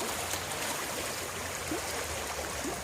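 A creek swollen after heavy rains, flowing with a steady, faint broadband rush and occasional small gurgles, with no voices.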